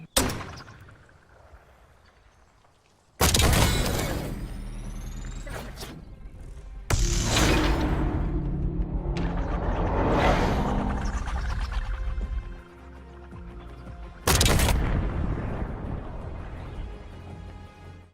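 Gunshots and an explosion from the video game Black Ops 6 on the Haven map, several loud sudden bursts with ringing decay, and quieter mechanical game sounds between them.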